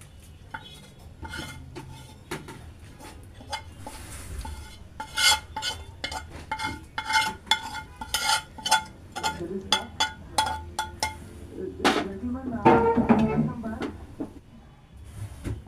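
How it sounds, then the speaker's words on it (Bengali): A hot tempering (baghar) is poured onto haleem and stirred in a pot, giving repeated metallic clinks and scrapes of a spoon against the pot, growing busier toward the end, under a woman's speech. "এই যে দেখো এখন বাগার দিয়ে দিলাম।"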